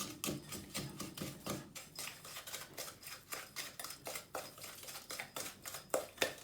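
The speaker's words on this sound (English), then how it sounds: "What we're going to do is we're going to cream this butter and the sugar." Butter and sugar being creamed by hand in a bowl, a faint, quick run of repeated scraping and clinking strokes from a spoon against the bowl, steady and rhythmic with no talking.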